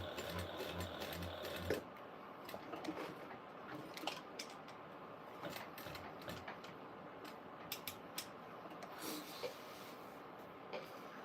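A sewing machine runs continuously during a live sewing session, its steady mechanical whir and rapid needle clatter close and clear, with small knocks and clicks as fabric is handled.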